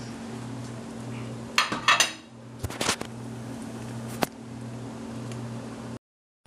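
A wire whisk stirs pho soup base into broth in a pot, producing a few clustered metallic clinks and taps against the pot wall over a low steady hum, close and fairly quiet.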